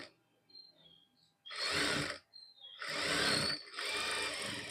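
A sewing machine stitches along folded fabric in three loud, close bursts of rapid whirring, separated by brief pauses with faint clicks.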